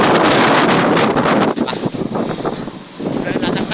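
Strong typhoon wind at sea pounds the microphone in loud, roaring gusts, easing briefly midway before surging again, with a voice speaking under the blast.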